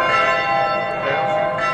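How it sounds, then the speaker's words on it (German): Church bells ringing in Graz, Austria, a dense sustained metallic peal with overlapping tones, loud and continuous throughout with no talk over it. "Ein bisschen dauert es noch, sagt der Rudi, der kennt natürlich jede Glocke in Graz und weiß genau, wie lange die bimmelt"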